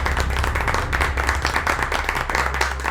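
Steady, dense applause from an audience following a speech, many hands clapping together at an even loudness with no pauses, no voices on top.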